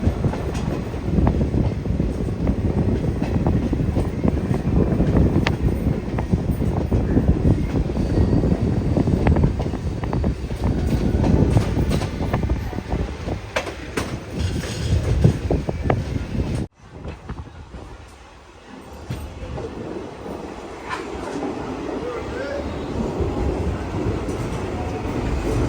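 A passenger train on the Hampi to Hubballi line rumbles steadily from inside the carriage, with loud continuous rolling noise and faint rhythmic rail clatter, then a sudden cut to a quieter, thinner rumble partway through.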